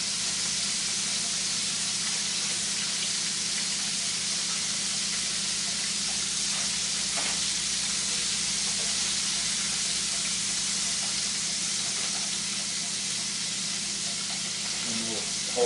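Shrimp fry in hot oil with a steady, loud hissing sizzle that carries on unbroken, a dense crackling bubbling close to the pan with faint kitchen sounds beneath.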